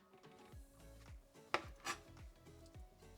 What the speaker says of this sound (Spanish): son 7 tentáculos que vamos a cortar en piezas tamaño bocado